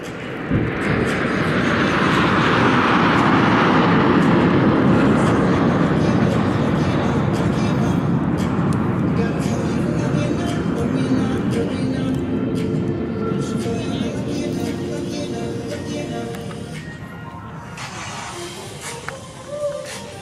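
Loud, broad jet engine roar of military jets, including Rafales, passing at an air show, swelling and slowly fading over twenty seconds, with faint talk mixed underneath.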